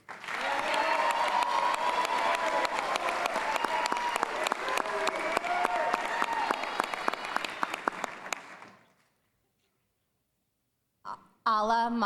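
Loud applause and cheering from a graduation ceremony audience at Valor College Prep, dense clapping with whoops on top, cutting off abruptly into silence before a brief burst of a voice at the end.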